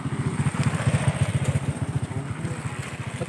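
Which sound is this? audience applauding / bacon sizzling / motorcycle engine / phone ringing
motorcycle engine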